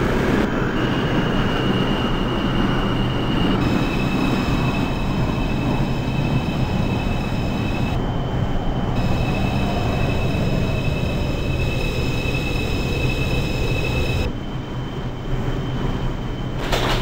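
A New York City 2 line subway train runs in the openbve simulator, giving a continuous loud rumble of wheels and motors with sustained high whines and squeals that shift as it travels, with no talking.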